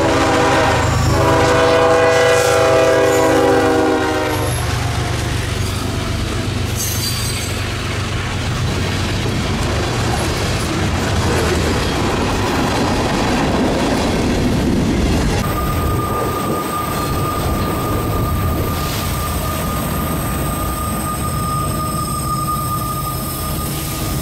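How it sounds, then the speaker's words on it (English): A Kansas City Southern freight train climbs the grade of Rich Mountain, its DPU locomotive howling loudly as it rolls past close by, with a horn blast near the start and steady rumbling and wheel noise throughout, then a high whine later. "That seemed evident when the sound of a howling DPU rolled past us."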